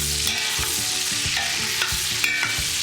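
Onions fry in bacon fat in a pot with a steady close sizzle, punctuated by regular scraping clicks of a utensil stirring them.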